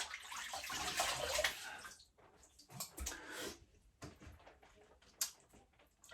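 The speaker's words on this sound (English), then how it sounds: "I'm just gonna rinse this off." A shaving razor is rinsed under a running tap, with water gushing in bursts and splashing at close range, separated by short quiet gaps and small clinks.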